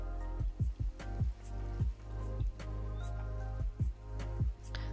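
Water dripping and trickling in Minecraft, a run of close, irregular droplet plinks over a steady low flowing bed.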